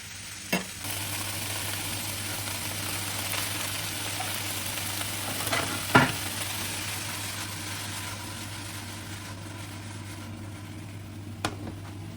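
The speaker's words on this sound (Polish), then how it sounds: "I te pomidorki jak pokroję od razu daję na patelnię" Freshly chopped tomatoes sizzling in a frying pan for a vegetable pasta sauce, a steady low frying hiss with a few soft clinks and a brief clatter midway, under a constant hum.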